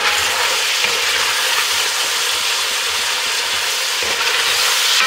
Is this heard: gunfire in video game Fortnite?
no